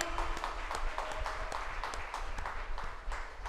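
A congregation claps together during a Tamil Christian church service, a dense, steady patter of many hands that carries on without pause, fairly distant and even in loudness.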